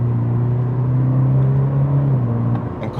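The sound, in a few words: 2026 Cadillac CT4 engine revving on paddle-shift rev-matched downshifts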